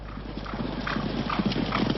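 Racehorse hooves clip-clopping in a steady, close rhythm over a continuous low background hum, with no talk.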